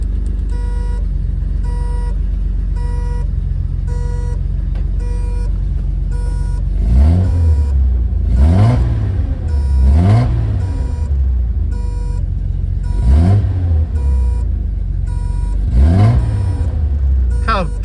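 A 1979 Datsun 280ZX slicktop engine idles steadily, then gets several sharp revs in a row, each rising and falling, recorded close by with someone talking throughout.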